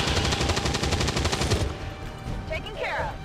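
Rapid gunfire in the video game XCOM 2, a dense burst of repeated shots filling the first half, then quieter game sounds with a brief electronic sweep; a voice imitates the shots with pew sounds.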